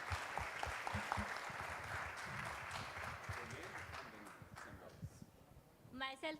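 An audience at a campus placement programme breaks into a sustained round of applause for a woman, a steady dense clapping that fades toward the end as a voice cuts in.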